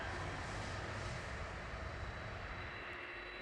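A Turkish Airlines Airbus A321 jet at Geneva airport gives a steady, broad engine roar, moderately distant and continuous with no voices.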